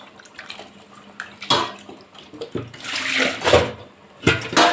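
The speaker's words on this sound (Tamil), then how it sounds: "இன்னும் கொஞ்சம் தண்ணி ஊற்றுவோம் ஏன்னா மீன் வேகலைல்ல" Water is poured from a vessel into a simmering fish curry (meen kulambu) in a home kitchen, a few short splashing bursts with gentle trickling between them, close by and with no talk.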